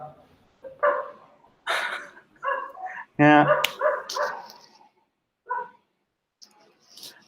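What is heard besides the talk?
dog barking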